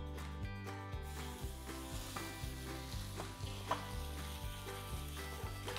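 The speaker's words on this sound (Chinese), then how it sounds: "現在是用中火先炒五花肉片。" Pork belly slices stir-fry over medium heat in an unoiled pan, giving a steady sizzle that runs under louder rhythmic music throughout.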